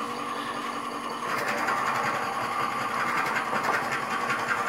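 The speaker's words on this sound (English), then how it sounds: "So I'm gonna turn the lathe back on." A woodturning lathe fitted with a screw chuck starts up and runs, a steady mechanical hum with a rapid rhythmic whirring that grows a little louder after a second, no voices.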